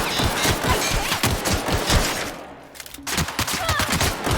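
Marauders in The Outer Worlds fire a loud rapid volley of gunshots in dense repeated bursts, then a short lull and more shots, with no talking.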